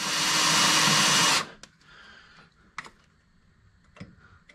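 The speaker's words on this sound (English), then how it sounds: "so I can drill a pilot hole, and then go to 3/8" Power drill boring a pilot hole in metal for a bumper mount on a Jeep JKU, a loud steady high whine for over a second that stops abruptly, followed by faint clicks and small handling taps.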